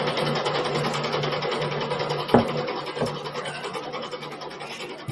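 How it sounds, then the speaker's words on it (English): A desktop printer that seems close to failing runs a page, giving a steady grinding, rasping mechanical whir with a faint hum and a sharp clunk partway through, close by and with no voices. "Printer sounds like it's going to die any moment."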